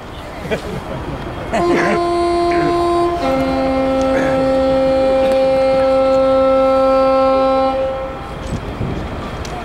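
A loud locomotive horn blares in a long, steady multi-tone chord lasting several seconds at the St Philips Marsh depot open day, with crowd noise and voices around it before and after.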